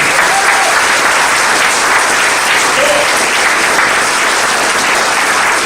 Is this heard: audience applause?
yes